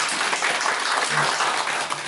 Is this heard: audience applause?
yes